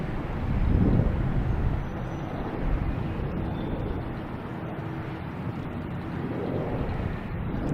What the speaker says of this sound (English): next taking off is a JetBlue at A320